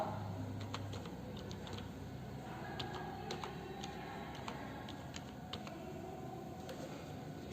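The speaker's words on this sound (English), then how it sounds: "Now I am typing the word." Typing a word on a computer keyboard, a quiet run of irregular clicking keystrokes over a faint steady room hum.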